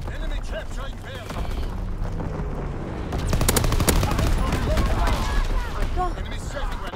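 Gunfire from an enemy aircraft strafing run in Call of Duty WWII, with dense, loud bursts that build and keep going under a constant battle din, and shouted voices mixed in.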